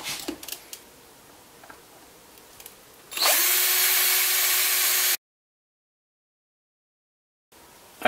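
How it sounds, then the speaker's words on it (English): A power drill drilling through a plastic box for an aquarium filter whirs loudly and steadily for about two seconds after some light handling clicks, then cuts off abruptly. "I'm now going to drill that through, so we'll see how that goes."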